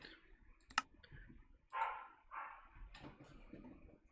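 Dogs bark in a few short, separate bursts at a moderate distance, fairly faint, with a sharp click early on and quiet gaps between the barks.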